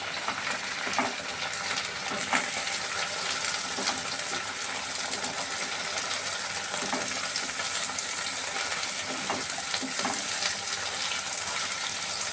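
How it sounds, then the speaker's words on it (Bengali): Cut potatoes and spring onion stalks frying together in a pan, giving a loud, even, continuous sizzle up close, with a few faint stirring scrapes and no voices. "ভালোভাবে ভাজা ভাজা হতে দিতে হবে।"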